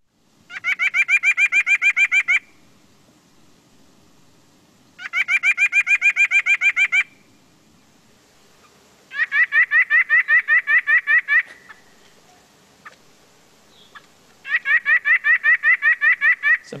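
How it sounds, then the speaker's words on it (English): A white-breasted nuthatch gives four bursts of rapid, nasal, laugh-like notes, each lasting about two seconds with short pauses between them, close and clear over a quiet background. "And they have a very distinct sound. White-breasted nuthatch."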